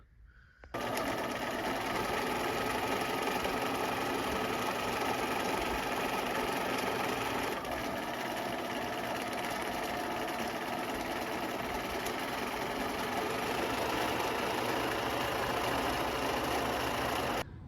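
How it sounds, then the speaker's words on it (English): A sewing machine runs continuously while stitching together a jacket bodice, a fast steady mechanical whir and clatter up close, starting after a short quiet moment and keeping an even pace throughout with no talking. "after I did a little more sewing, getting the bodice together"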